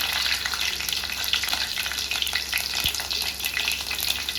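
Mustard seeds, fenugreek and green chilies fry in hot oil, a loud, close, continuous crackling sizzle with scattered pops throughout, no talking.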